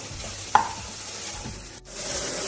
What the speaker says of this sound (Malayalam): ഇത്രയും ചേർത്ത് ഇതിന്റെ പച്ചമണം മാറുന്നത് വരെ നന്നായിട്ട് വഴറ്റണം.